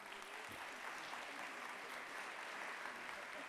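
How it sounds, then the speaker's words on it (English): A graduation crowd at the 2025 Garrett Morgan School of Engineering & Innovation ceremony claps in a steady, dense wash of applause that stays even and fairly distant throughout. "Can we get a clap for that?"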